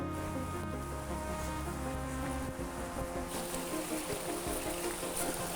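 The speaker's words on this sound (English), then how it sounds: "This is our little year-round creek running through the property." A small year-round creek runs through a rural property, giving a continuous close rush and babble of flowing water with steady loudness and no voices.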